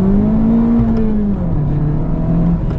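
A first-year Honda Civic Type R engine sustains a steady, loud mechanical drone high in the rev range, its pitch sagging slightly partway through and never stopping.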